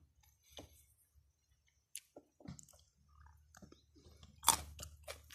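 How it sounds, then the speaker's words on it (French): Quiet, close-up crunching and squishing of raw tiger nuts being chewed, in irregular bites with soft pauses between them. "Et moi, je les mange comme ça cru. C'est croquant."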